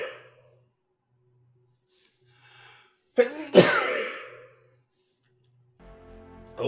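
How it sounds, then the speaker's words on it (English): A single sharp human sneeze, close and loud, preceded by a short inhale and trailing off into breath, over quiet game sounds during a mobile shooter session. "Oh no, I'm gonna sneeze."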